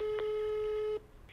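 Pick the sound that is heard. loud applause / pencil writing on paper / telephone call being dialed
telephone call being dialed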